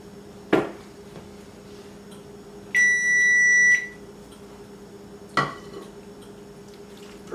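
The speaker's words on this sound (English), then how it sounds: "Perfect timing, the timer on the stove," A kitchen stove timer gives one sustained electronic beep lasting about a second, clear and close, with sharp clinks of dishes or a pan before and after it. No one speaks.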